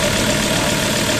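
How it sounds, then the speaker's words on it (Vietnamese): A 2016 Ford Wildtrak with a 3.2-litre diesel engine idles close up, giving a loud, steady, even rumble with no voices. "máy thì chạy tương đối khá là ngon, chắc chắn, tiếng thì đập rõ ràng"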